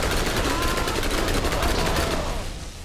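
Sustained rapid gunfire in the co-op shooter game Borderlands, a loud continuous rattle of shots that thins out toward the end, with voices mixed in.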